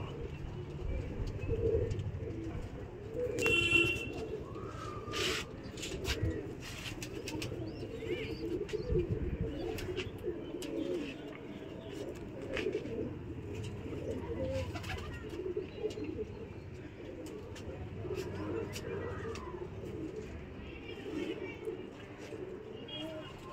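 Pigeons coo low and repeatedly in a flock settling on a perch, joined by occasional chirps and wing flutters, while a person talks over them.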